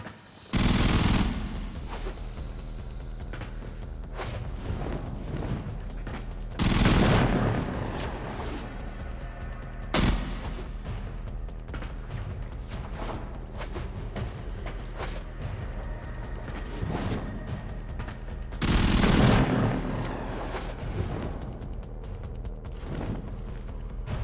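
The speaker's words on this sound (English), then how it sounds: "Shoot the targets to create your path." Gunfire at targets during an agility test in the video game Warframe: loud bursts of automatic fire around 1, 7, 10 and 19 seconds, with a steady game ambience between them and no speech.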